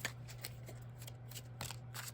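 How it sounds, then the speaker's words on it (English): A deck of Yu-Gi-Oh trading cards from an Elemental HERO deck is shuffled by hand, giving a faint, steady papery riffle of quick flicks over a low constant hum. "So let me do a nice little shuffle here"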